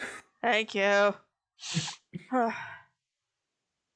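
A single sharp sneeze followed by a few spoken words nearby, then quiet.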